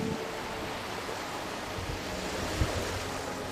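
Ocean waves and wind around an island in Final Fantasy XIV, a steady wash of surf noise with a soft gusting hiss, continuous and moderately distant, with one faint low thump.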